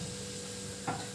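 Puri fry in a pan with a steady, close sizzle of hot oil, and one brief louder stir or splash near the end.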